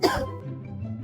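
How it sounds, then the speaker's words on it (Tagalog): A single sharp cough, close and brief, trailing off into a low murmur. "May ubo ka."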